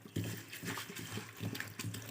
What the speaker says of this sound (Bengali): ভালো করে আমি চিড়েটাকে ধুয়ে পরিষ্কার করে নেব।